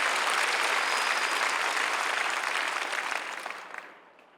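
Audience applause at a church prayer rally held at a war memorial hall, a dense, sustained roar of many clapping hands that holds steady, then fades away over the last second with no talk.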